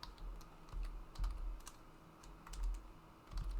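A git command is typed on a Windows computer keyboard as quiet, close key taps in an uneven flurry with a few heavier strokes, alone and without talking.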